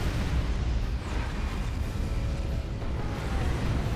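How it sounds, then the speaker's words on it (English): Rocket-run barrage in Dawn of War 2: Retribution, a 3v3 Tyranids versus Imperial Guard battle, a dense continuous rumble of overlapping explosions, loud and close, with no speech. "And what is this? It's a rocket run."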